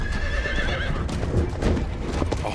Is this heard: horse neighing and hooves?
yes